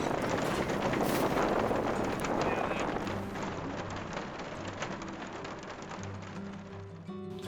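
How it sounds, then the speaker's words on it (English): Steady rain patters and hisses close by, loudest at first and then easing slightly, with a low background rumble and no clear talking. "Love the rain."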